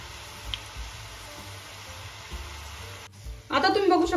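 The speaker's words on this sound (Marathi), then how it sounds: "आता आपल्याला छान गोल्डन कलर येईपर्यंत तळून घ्यायचे आहे" Champakali pastries deep frying in hot oil give a steady, soft sizzle throughout, with louder bubbling and crackling bursting up near the end.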